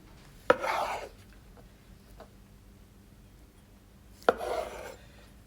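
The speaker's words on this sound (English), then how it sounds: "I like to use a big knife and I cut it into 4" A big knife cuts through cooked fruit for Oxford marmalade, quartering it on a board: two separate short, quiet slicing strokes, each a sharp bite followed by a soft rasp, about four seconds apart with near silence between.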